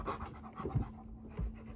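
A dog pants in quick, rhythmic breaths close by, heard on its own with a faint steady hum underneath.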